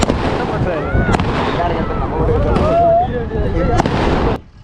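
Firecrackers burst at a Pamban bridge lift-test celebration. Several sharp, loud cracks ring out at irregular intervals over a busy, noisy outdoor crowd with voices and whistling, then fade quickly at the end.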